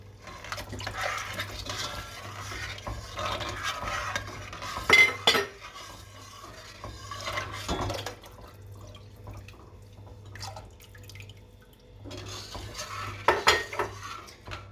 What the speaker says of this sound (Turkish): Altını tekrar biraz açıp süt kaynayana kadar karıştırıyoruz.